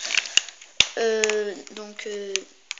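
A voice imitates blaster shots and laser zaps in a Lego Star Wars battle, with sharp clicks and warbling, falling pew-pew tones in two quick bursts, close and alone.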